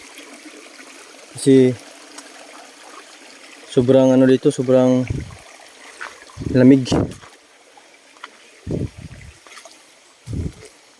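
A river on a hillside farm flows with a steady, soft rush of water, heard continuously beneath several short bursts of nearby talking.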